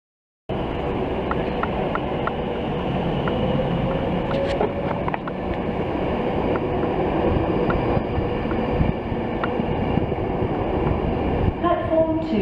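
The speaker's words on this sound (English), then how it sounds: "It is a Virgin train" A Virgin train at Warrington station, a steady broadband rumble of rolling stock filling the platform throughout, with faint clicks and a brief whistle-like tone midway.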